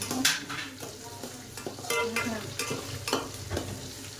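A spoon stirs sardine fish curry in a pan, giving irregular scraping and clinking strokes over a soft sizzle, close and fairly quiet.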